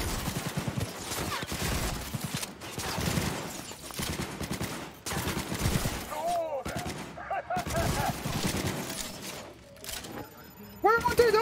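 Shotgun gunfire in Cyberpunk 2077, repeated heavy blasts in irregular bursts with game effects, while a player talks over the shooting.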